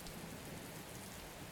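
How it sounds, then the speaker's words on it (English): Steady, dense rain falls in the sci-fi adventure game Gemini Rue, a continuous hiss of drops with no breaks, soft and even throughout, heard alone. "Perpetual rain."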